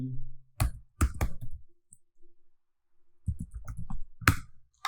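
Someone types on a computer keyboard while coding in Android Studio, with crisp close key clicks arriving in two short bursts separated by a quiet pause.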